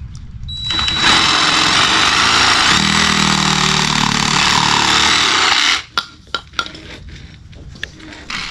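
Power tool cutting off a part on a Grady White boat: a loud, sustained, harsh buzzing cut lasting about five seconds, followed by a few sharp knocks and clatters.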